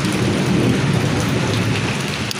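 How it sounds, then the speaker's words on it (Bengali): A village thunderstorm pours heavy rain in a dense, loud, continuous roar, with deep thunder rumbling underneath throughout and no one talking. "আমাদের এখানে বজ্রপাত হচ্ছে এবং বৃষ্টি হচ্ছে"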